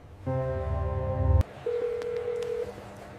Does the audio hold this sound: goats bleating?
no